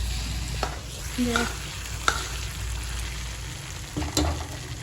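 Leftover cooked food is tempered in hot oil, giving a faint, steady sizzle with a few clinks of a spoon stirring in the pan, heard alone.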